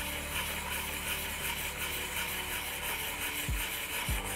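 A steel chisel is rubbed back and forth on an M.Power diamond sharpening plate, a quiet, steady gritty scraping with two soft knocks near the end.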